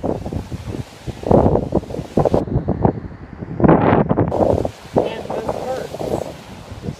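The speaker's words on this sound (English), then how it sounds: "It's super windy up here." Strong wind blows at the top of a house, heavy gusts buffeting the microphone in loud surges and lulls while people talk.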